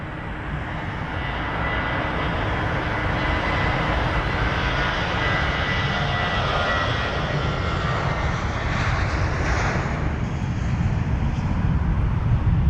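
Airliner on the runway at London Heathrow, a loud, sustained engine roar that stays steady and full throughout, close and dominant.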